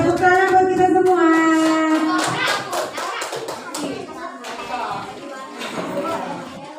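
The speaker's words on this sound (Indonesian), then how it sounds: "Tepuk tangan buat kita semua." Children in a classroom clap their hands in a burst of loose, uneven claps, with kids' voices and chatter running over and after it at close range.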